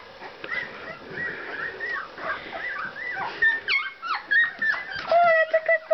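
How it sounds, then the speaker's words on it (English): Several high-pitched puppy yips and whimpers, becoming sharper and more frequent toward the end, close by over a faint background hum. "Oh, that's a good bark."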